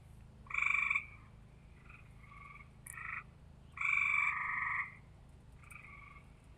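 Frogs or toads croak and chirp outdoors at night in a few loud, buzzy bursts, separated by quieter trilling calls over a low steady background hum.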